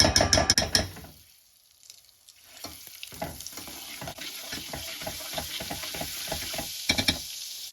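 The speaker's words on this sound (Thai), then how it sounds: "พอเราใส่น้ำมันไปแล้วนะคะ เราก็จะตามด้วย มาการีนอีกประมาณ 1ช้อนนะคะ1 ช้อนโต๊ะ" Margarine, about a tablespoon, melts into hot oil in a pan for popcorn, starting with a loud burst of sizzling, then dropping to soft crackles and intermittent pops and spits.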